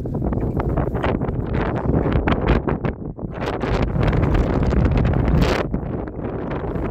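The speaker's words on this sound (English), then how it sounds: "it's definitely getting a bit windy here now." Strong wind buffets the microphone in repeated gusts on Castle Hill in Mere, Wiltshire, a rough continuous roar with crackling bursts and no voices.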